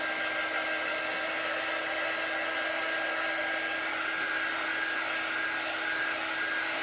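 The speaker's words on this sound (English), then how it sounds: "I need a new hair dryer." A hair dryer blows steadily on a painted door tag, giving a constant loud whooshing drone with an even motor whine that runs unbroken from start to finish, with no talking.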